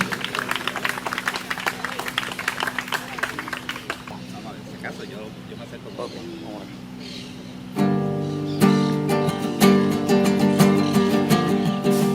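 Audience applause greets a performer at a commemoration of Eugenio M. de Hostos's 185th birthday, a dense patter of clapping that fades after a few seconds before instrumental music and singing start up loudly.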